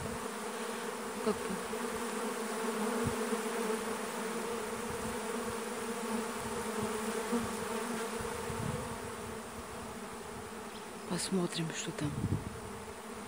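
A secondary honeybee swarm pours out at an apiary with a dense, unbroken buzz that fills the air. Someone speaks briefly near the start, and louder buzzing bursts flare toward the end.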